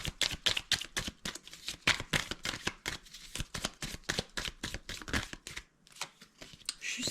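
Playing cards shuffled for a card reading, a rapid run of crisp riffling flicks and snaps close by, repeating in quick bursts with a short pause near the end and no speech.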